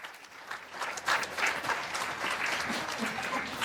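Audience applause at a women's empowerment event hosted by an anchor: sustained, dense clapping from a crowd that swells after a second and holds steady to the end, fairly close and continuous.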